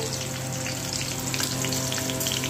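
Whole cinnamon, cloves and cardamom crackle in hot oil while tempering for a Bengali jackfruit curry, a steady dense sizzle with scattered pops, close and continuous throughout.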